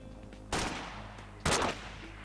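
Two sharp gunshots ring out about a second apart in the video game 7.62 High Calibre, each a loud, bright crack with a short decaying tail over a quiet background hum.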